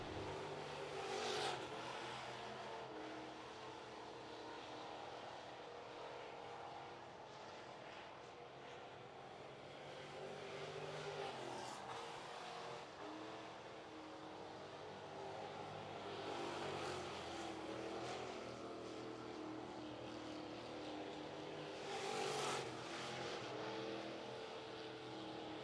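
Thunder Bomber race cars on qualifying laps at Cherokee Speedway, a constant distant engine roar rising and falling as cars sweep past, heard from afar with no nearby talk.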